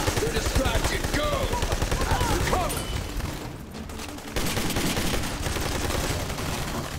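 Rapid video-game gunfire from a Beretta during a firefight with Mexican drug cartel enemies, dense rattling bursts that run almost continuously, briefly thinning midway before resuming loud and close.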